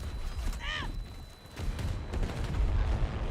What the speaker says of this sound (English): I don't even know what killed me then. Just explosions.